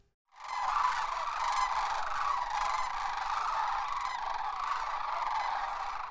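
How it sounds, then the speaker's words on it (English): A dense chorus of sandhill cranes calling in Nebraska, with many overlapping honking, trumpeting cries from a large flock that carry on without a break, fairly loud and spread across the scene. "sounds totally different than the sounds of sandhill cranes in Nebraska"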